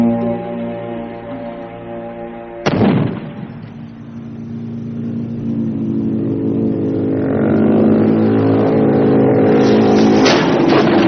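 A film stunt on an off-road set where a speeding car rams a motorbike and a buggy: a loud engine roar builds, then a sharp crash impact hits near, followed by sustained revving and a second jolt near the end.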